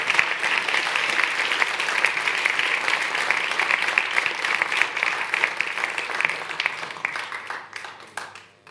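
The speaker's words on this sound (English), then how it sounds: "a final round of applause from the audience" A large audience gives a final round of applause for keynote speakers at an ocean research launch event, dense sustained clapping that holds steady for most of the stretch before thinning and fading near the end.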